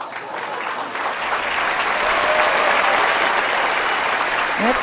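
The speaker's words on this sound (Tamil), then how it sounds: "இப்படியெல்லாம் நம்ம கோயம்புத்தூரில் சொன்னால் கைதட்டுவாங்க" Audience applause fills a hall during a Tamil debate-style comedy event, a dense, loud, sustained burst of clapping that runs steadily for several seconds.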